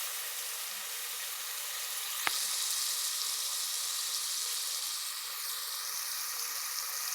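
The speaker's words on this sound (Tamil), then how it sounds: "வெங்காயத்தை நல்லா இப்படி வதக்கி விட்டுட்டே இருக்கணும்" Onions with ginger-garlic paste sauté in a pan for Coimbatore-style chicken biryani, giving a steady, close sizzle with a single sharp clink of a utensil against the pan.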